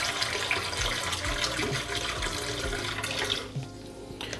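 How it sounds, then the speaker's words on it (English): Hot water running into a bowl at a kitchen sink for soaking an espresso portafilter, a steady close splashing flow that eases off near the end, with no talk. "you can add some water into the bowl first, hot water preferably"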